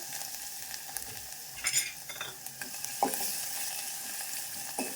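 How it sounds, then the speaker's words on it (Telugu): Mustard seeds, curry leaves and crushed garlic frying in hot oil over a slow flame, a steady crackling sizzle with a few louder spits and a spoon stirring, close and with no speech. "ఇప్పుడు ఆయిల్ హీట్ ఎక్కింది, ఆవాలు వేసింది, కరివేపాకు, దంచి పెట్టుకున్న తెల్లగడ్డ,"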